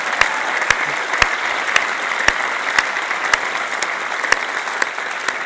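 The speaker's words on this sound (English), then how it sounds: "can I have a round of applause?" An audience claps steadily, a dense field of applause with a few sharp individual claps standing out, moderately loud and continuous at a climate-campaign talk celebrating fossil fuel divestment.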